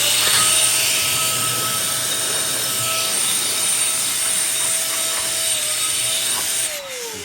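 A SIN SHINE Compressed Air 3.0 electric duster blows dust off a desk and mouse pad with a loud, steady high-pitched motor whine and rushing air, running continuously before dropping slightly at the end.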